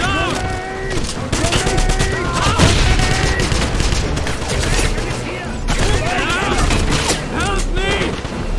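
Rapid gunfire and booming explosions fill a battle in the video game Wolfenstein 2009, dense and loud bursts nearly continuous, with soldiers shouting over the fighting.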